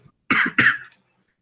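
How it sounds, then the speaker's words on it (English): A single person gives two quick, close coughs in a row during a podcast recording, then falls silent. "Via cough."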